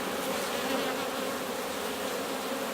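Bees buzz densely around an open hive being gently smoked during a brood inspection, a steady close swarm drone that never pauses.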